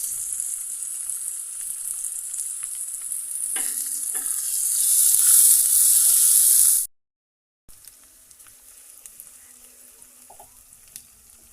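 Cumin, a bay leaf, chopped onion and green and red chillies frying in hot oil, a loud rising hiss and sizzle with a couple of stirring scrapes, then a sudden cut and a quieter sizzle.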